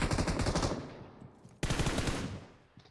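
Automatic gunfire in the mobile battle-royale game PUBG Mobile, two loud sustained bursts with a brief gap between them, close and dense.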